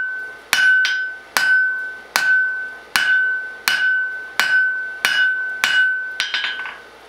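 A blacksmith hammers metal on the edge of an anvil, about ten evenly spaced ringing strikes with a sustained bright tone after each, close and clear, ending in a quick flurry of lighter taps.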